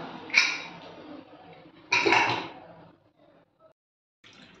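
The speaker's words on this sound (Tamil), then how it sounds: "குக்கரை திறந்து பார்க்கலாம்" A pressure cooker lid after cooking mutton is worked open with two metallic clanks and scrapes about a second and a half apart, followed by quieter faint clatter.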